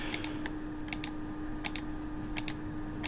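Quick pairs of close mouse clicks repeat at a steady pace, about four double clicks over a low electrical hum.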